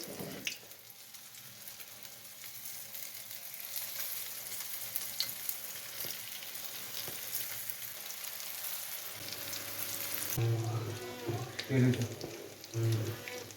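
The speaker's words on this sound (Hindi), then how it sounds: "ये मैं अब फ्राई करके दिखाती हूँ" Chicken shami tikki patties fry in oil in a pan, giving a steady close sizzle throughout, with louder crackling bursts near the end.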